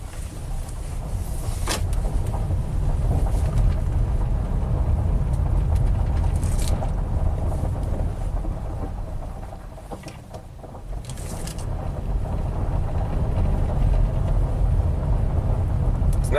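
Steady interior road and engine rumble from a Honda car on a test drive, its transmission not shifting at about 100k miles; the low drone runs continuously and close, easing briefly near the middle before building again.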